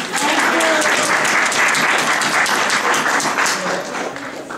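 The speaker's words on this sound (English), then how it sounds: "So everyone give him a round of applause" A crowd at a community event gives a loud sustained round of applause, dense continuous clapping close by that eases slightly at the end.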